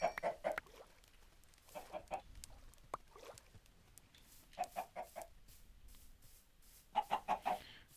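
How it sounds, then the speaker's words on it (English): A video-game chicken clucks in short repeated bursts of several clucks each, fairly clear with quiet gaps between, no talking. "Out of here, chicken. Unless you want to become fried chicken."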